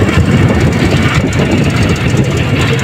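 A tricycle motorcycle engine runs steadily and loudly up close, a dense continuous mechanical drone with no talking over it.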